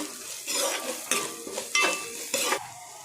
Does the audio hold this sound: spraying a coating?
no